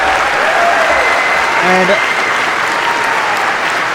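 Crowd applause erupting after a submission grappling match at the Who's Number One event, a steady roar of clapping and cheering that fills the room, with a commentator's voice briefly heard over it.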